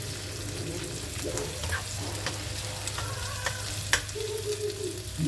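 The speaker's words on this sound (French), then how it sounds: "Moi, je baisse. Et je laisse cuire." Food frying in a pan on a low flame, with a steady sizzle throughout and occasional scrapes and knocks of a utensil stirring it, close and unaccompanied by talk.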